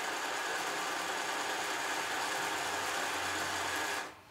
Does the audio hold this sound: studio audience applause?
no